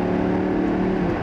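A Lamborghini LP560-4 Spyder engine revving near 3,500 RPM with the exhaust valves opening, a steady, loud, close drone holding a strong low hum for over a second with no talk.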